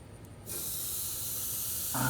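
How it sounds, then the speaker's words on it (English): A 15-day dry-aged ribeye steak lands on a hot grill for a reverse sear and starts up a sudden, steady, loud hiss and sizzle that swells slightly at the end. "Toss this steak on here. I'm going to do a reverse sear."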